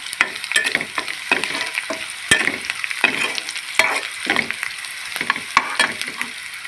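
Curry leaves and urad dal pieces frying in hot oil for gongura mutton curry, a steady close sizzle with frequent crackles and spatula stirring throughout, no voices.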